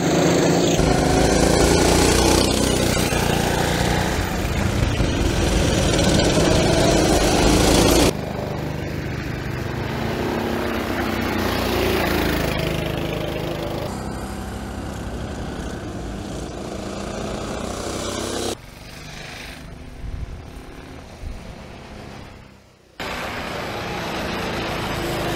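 Go-kart engines buzz loudly through a cold-track qualifying lap in a kart racing championship, a high revving drone that rises and falls as karts pass, with abrupt cuts between scenes.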